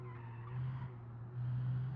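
In the driving game BeamNG.drive, a stock car's tires skid and squeal in a steady, sustained hiss over a low engine drone, swelling louder twice, with no one talking.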